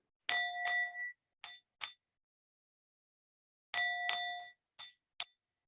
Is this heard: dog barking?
no